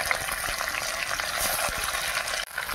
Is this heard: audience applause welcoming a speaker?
no